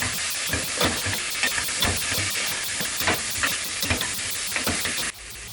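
Tomato sizzling and steaming in a hot pan of curry, a steady dense hiss with rapid crackles and stirring scrapes throughout, easing off slightly near the end.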